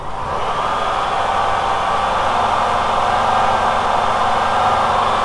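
Volkswagen T3 van engine held at a raised idle, a steady, loud, even drone with a smooth broadband rush, running on without change and with no voices over it.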